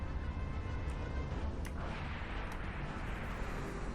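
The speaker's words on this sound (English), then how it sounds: "Target locked. Missiles away." Missiles launch in the online multiplayer video game Dreadnought as a faint, low rumble of distant booms and thuds under continuous background noise.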